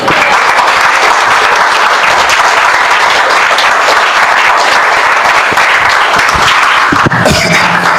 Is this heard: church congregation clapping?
yes